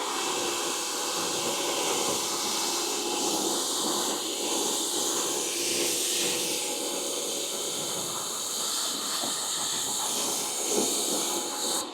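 A sprayer mists citrus pre-wash onto a dirty Suzuki S-Cross, giving a steady, loud, close hiss that runs without a break.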